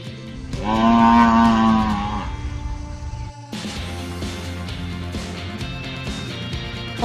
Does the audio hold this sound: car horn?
no